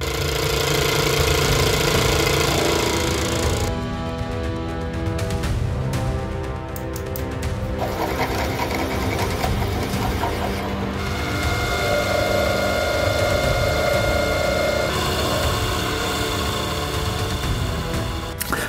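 Metal part for a 150cc four-stroke race engine being machined in a workshop: a continuous loud grinding, whirring machine noise with shifting tones and brief clattering changes, no talking.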